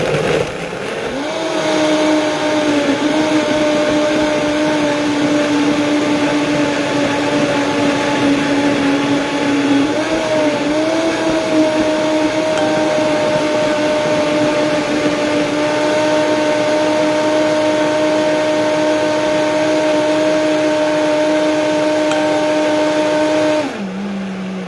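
A kitchen blender whirs continuously, blending a smoothie with seeds and nuts, a loud, steady motor drone with a slight pitch dip midway, running alone for over twenty seconds before cutting off.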